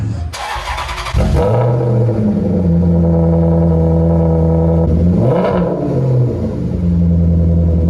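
A car engine with a nearly straight-piped exhaust barks to life and settles into a loud, raspy idle, then blips with a throaty rev before dropping back to a rumbling burble.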